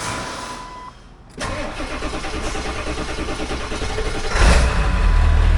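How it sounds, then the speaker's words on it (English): A 1999 Ford F-350 Super Duty dually with the 7.3 liter Power Stroke diesel and 263,000 miles cranks briefly after a pause, then catches and settles into a loud, close, steady rumbling idle that swells slightly near the end. "Go ahead and fire her up here."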